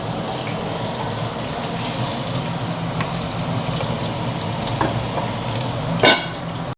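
Fish curry simmering in a pan once water has been added, with a steady close bubbling hiss and occasional light spatters and pops, one of them louder near the end.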